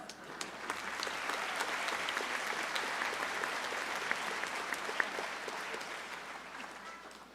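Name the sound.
audience applause and cheering at a convocation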